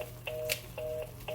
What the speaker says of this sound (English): Oh, the phone, I forgot to hang it up.